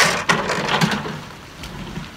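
Steady rain falls outdoors while a truck is unloaded, a loud broadband hiss with a few sharp knocks near the start and no speech.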